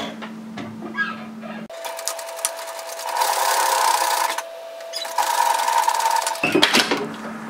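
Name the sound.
sewing machine sewing an edge stitch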